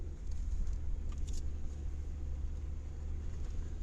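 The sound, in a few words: car driving along a snowy dirt track in Bulgaria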